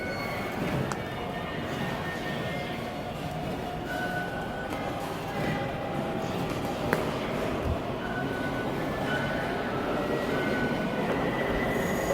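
A subway train in Taiwan rolls along with a steady rumble, faint wheel squeals and occasional metallic clicks, heard from inside at moderate volume.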